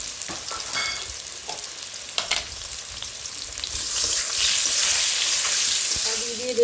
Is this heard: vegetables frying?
yes